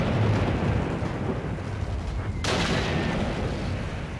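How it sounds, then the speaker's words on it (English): One sharp sniper rifle shot cracks out midway in Call of Duty: Roads to Victory during a World War II Canadian campaign sniper mission. It is loud and sudden against a constant rumbling battlefield backdrop. "Sniper shot Clark!"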